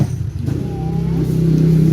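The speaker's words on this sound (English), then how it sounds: "the motorcycles driving past" Motorcycles drive past on a street in the Philippines, their engines rising in a steady, moderately loud rumble that builds over the two seconds.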